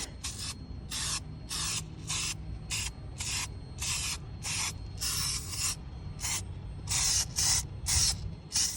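Aerosol spray paint on a C16 part, about fifteen short close hissing bursts in an uneven rhythm separated by brief pauses, with no talk.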